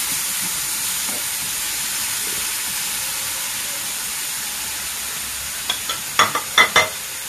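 Garlic sizzling and frying in a pan as it is stirred, with a steady hiss throughout and a few sharp scraping clinks near the end.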